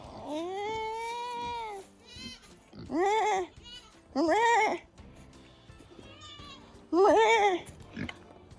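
Goats bleat at feeding time, with several long, loud wavering calls spaced a few seconds apart over quieter background rustling and noise.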